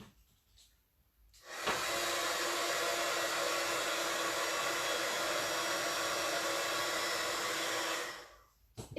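A heat tool blows a steady, loud whooshing hiss for several seconds while warming embossing powder on a handmade card, starting abruptly and cutting off near the end.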